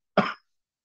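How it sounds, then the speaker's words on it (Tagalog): A single short cough with a throat-clearing rasp from a man leading a Bible study, close and fairly loud, lasting under half a second before silence. "Pasensya na kayo, tayo inuubo, no?"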